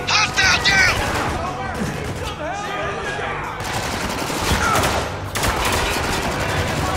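Sustained gunfire from the video game Spec Ops The Line, dense bursts of rifle and machine-gun fire crackling continuously, loud and close, with players talking over the battle.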